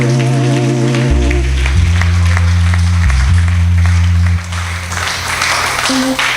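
A church congregation claps for Jesus, a dense, continuous patter of many hands under loud sustained organ-like music chords, filling the room.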